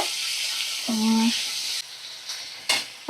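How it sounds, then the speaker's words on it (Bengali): Steady sizzle of potatoes frying with brief stirring scrapes in a pan, plus a short tonal hum partway through; close and fairly loud. "ভালো করে নাড়াচাড়া করে নিলাম।"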